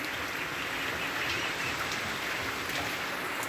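Continuous rain falls steadily as an even, moderately loud hiss of drops on surfaces, unbroken throughout with no voices.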